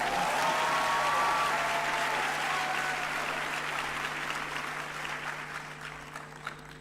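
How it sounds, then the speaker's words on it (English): Audience at a university graduation ceremony applauds an honorary doctorate candidate, broad steady clapping from many hands in a large hall, with a brief voice early on, gradually thinning toward the end. "You can give him a round of applause."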